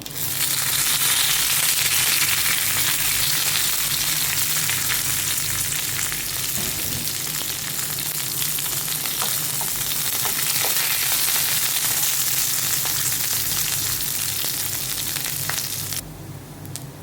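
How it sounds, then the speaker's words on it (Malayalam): Loud, continuous sizzling of shallots, curry leaves and dried red chilies frying in hot oil, close up, with crackles throughout and no voices. "നമ്മൾ നേരത്തെ അരിഞ്ഞു വെച്ചിരിക്കുന്ന ചെറിയുള്ളിയും കറിവേപ്പിലയും അതുപോലെ തന്നെ പറ്റൽമുളകുണ്ടല്ലോ അങ്ങോട്ട് ഇട്ട് കൊടുക്കാം"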